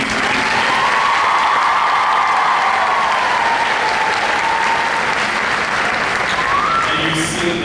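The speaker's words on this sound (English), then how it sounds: "can we give her a round of applause, please?" An audience in a room gives a round of applause: dense, loud, continuous clapping that holds steady for several seconds and then fades, with a voice coming in at the end.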